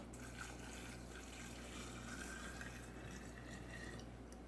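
Vinegar poured from a bottle over raspberries and thyme sprigs in a glass jar, a steady quiet liquid trickle running throughout with no talking.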